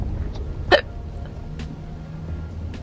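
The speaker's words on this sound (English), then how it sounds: "I got hiccups" One sharp, fairly loud hiccup from a woman stands out near the start, followed by quiet background rumble and a few faint clicks.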